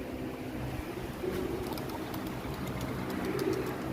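Pigeons softly coo as a flock is released to fly during homing pigeon training, the calls faint over a steady outdoor background hum.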